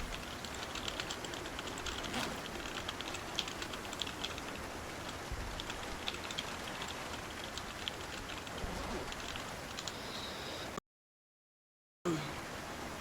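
Steady hiss of rain in the video game Project Zomboid, with scattered droplet patter, continuous and even throughout, briefly cutting out near the end.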